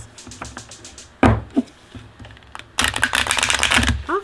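A deck of tarot cards is handled and shuffled close by, scattered soft taps giving way to a fast, crisp riffle of flicking cards.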